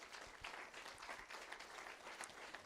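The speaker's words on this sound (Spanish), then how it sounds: "Fuerte el aplauso para el Señor." A church congregation applauds at a service, a steady, fairly faint wash of many hands clapping throughout.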